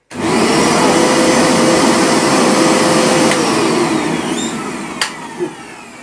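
The motor of a Vax V-124A Dual V carpet washer switches on and runs with a loud, steady whine that holds for several seconds, then tapers slightly with a couple of small knocks near the end; nobody speaks.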